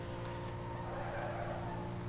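A Saleen S281 in the video game Need for Speed: Most Wanted drives with a steady, droning engine note and a continuous tyre squeal close up, holding even and unbroken for about two seconds with no voices.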